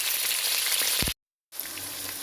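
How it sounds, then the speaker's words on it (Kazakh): Meat sizzles and fries loudly in hot oil in a pan, a dense steady crackle that briefly cuts out and then resumes. "етін қызартып неғып алдық, қуырып алдық"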